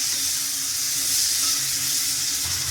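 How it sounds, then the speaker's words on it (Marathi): Onion frying in hot oil in a kadai, an even, continuous hissing sizzle at close range with little variation and no talking. "तेलात आपण कांदा फ्राय करून घेऊ."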